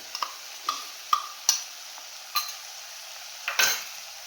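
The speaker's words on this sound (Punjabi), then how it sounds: "ਇਹਨੂੰ ਹਲਾਵਾਂਗੇ" Ginger garlic paste stirred into kadhi in a pan, gentle sizzling under a series of distinct spoon clinks and scrapes against the metal, close and without voices.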